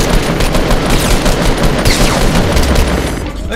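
Rapid, loud automatic gunfire in the video game Fortnite during a squads battle, continuous bursts of shots with booming impacts layered over them, close and intense throughout.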